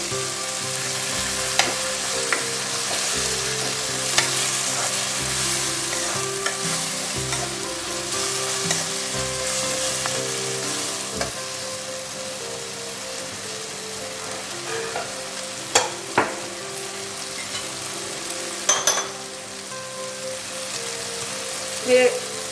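Continuous frying sizzle of kali ni bhaji greens with occasional clicks and scrapes of a spoon stirring the pan, a quiet voice speaking faintly beneath.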